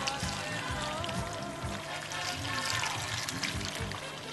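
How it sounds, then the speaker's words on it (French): Water poured steadily over a freshly repotted orchid's potting mix, a continuous close trickle and splash that runs for the whole stretch without speech. "Voilà, on arrose."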